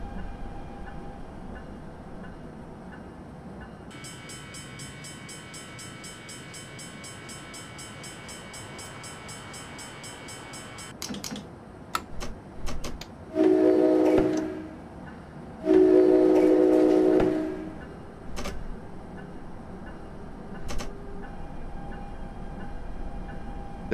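An ALP-45D locomotive in Train Simulator 2017 coming to a stop at a station. A steady low rumble is overlaid by a long tonal whine, then two loud, sustained horn blasts, with brief clanks in between.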